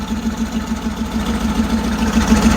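A 1967 Chevy Camaro RS idles through a factory-style true dual exhaust with a single muffler. It makes a low, steady, pulsing burble that stays close and alone.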